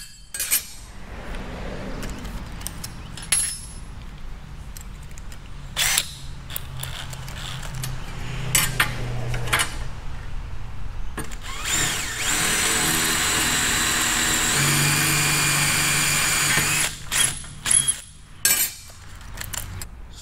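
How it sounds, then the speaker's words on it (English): A power drill boring holes in a metal accelerator pedal bracket for a Cadillac CTS-V, heard as bursts of close, loud whirring and grinding with a long sustained high-pitched run, separated by pauses and handling clatter, no speech. "Now we can drill a bracket."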